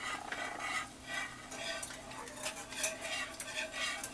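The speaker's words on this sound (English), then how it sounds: "you whisk it in. A little bit at a time." Whisk stirring sausage-flavored peppered gravy in a pan, a soft, continuous scraping and swishing with light metallic clinks, fairly quiet and steady throughout.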